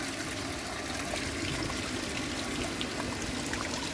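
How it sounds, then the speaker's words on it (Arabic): Water pours steadily over a pump-driven waterfall, a constant full-bodied rush and splash heard close and alone with no voices. "الماء يتدفق."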